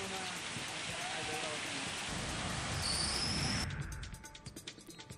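Heavy pre-monsoon rain pours in a steady, dense hiss during a storm in Maharashtra, then thins into scattered drips and splashes near the end.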